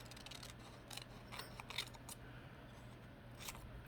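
Scissors snip through a paper magazine image during gluebook crafting, a run of short, crisp cuts in quick succession, close and fairly quiet over a steady low hum.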